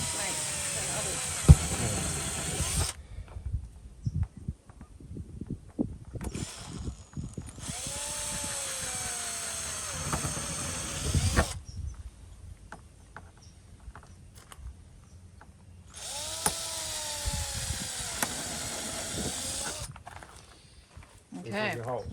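A power drill bores holes in a caravan for a fold-down outdoor table, whirring in long bursts with pauses between, while people talk over and between the runs.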